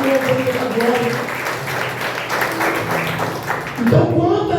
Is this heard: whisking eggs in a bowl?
no